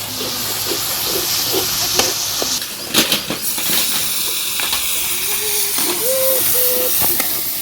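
Bottle gourd hits hot ground spice paste in a village kitchen with a loud steamy hiss that keeps up, broken by a few clanks and stirring knocks, plus a faint tonal squeak late on.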